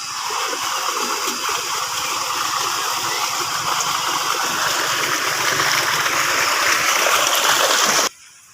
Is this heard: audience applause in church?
no